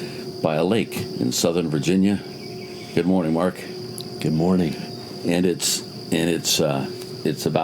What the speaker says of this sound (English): you can hear the ambient sounds of crickets and cicadas and birds in the background